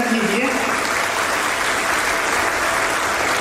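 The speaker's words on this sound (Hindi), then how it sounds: "जोरदार तालियों से आप अभिनंदन कीजिए" At a children's summer camp, an audience gives a full, steady round of applause lasting a few seconds, with a voice briefly audible at the start.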